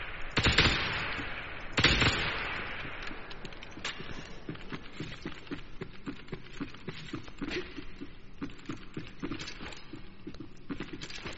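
Rapid automatic gunfire in the shooter game First Assault, with a couple of heavy shots early followed by a steady, fast patter of bursts throughout, moderate in level and without speech.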